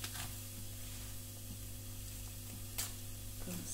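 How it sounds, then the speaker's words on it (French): Coarsely cut shallot pieces dry-roast in a pan without oil, giving a quiet, steady sizzle throughout, with a couple of brief scraping or tapping sounds along the way. "une échalote coupée en gros morceaux et grillée sans l'huile."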